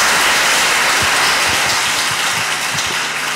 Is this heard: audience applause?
yes